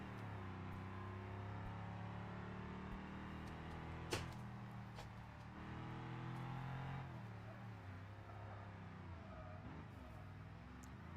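In the BeamNG video game, a box truck drives with a low, steady engine rumble that shifts pitch as it works. One sharp knock sounds midway, and someone talks faintly over it.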